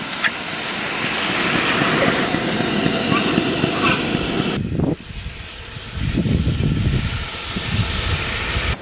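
A pot of coconut milk stew boils and hisses steadily on a camp stove at a bush campsite in Deua National Park, a loud continuous close hiss that briefly drops out, then resumes.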